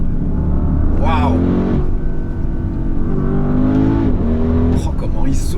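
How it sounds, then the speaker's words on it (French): A 2020 Audi RS Q8's engine revs hard and loud, rising and falling in pitch with turbo whoosh, while a voice speaks over it. "Oh, comment il souffle le moteur."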